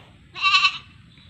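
A single short, nasal bleat rings out clearly against near silence, the voice quavering for about half a second.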